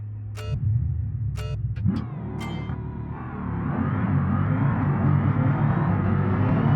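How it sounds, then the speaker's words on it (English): A race car engine in BeamNG idles low, then revs up and roars steadily louder as the car pulls away, with a few short electronic beeps at the start. "Do want to make sure we get our vehicle running."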